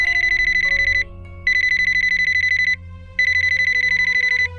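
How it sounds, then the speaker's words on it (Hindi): A telephone rings indoors in three long electronic trilling bursts separated by short gaps, loud and close, with a low steady hum underneath and no talking. "बुशरा का फोन है।"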